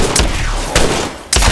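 Rapid gunfire bursts in the Apex Legends battle royale game, loud and close, with three sharp volleys breaking through a constant roar of weapon noise and no voices.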